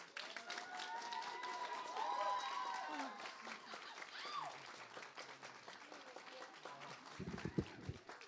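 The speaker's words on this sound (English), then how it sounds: "Keep that applause going for all our toasters tonight" Wedding reception guests clap scattered applause after toasts, continuing under lively chatter and cheerful voices, fairly quiet overall, with a brief thump near the end.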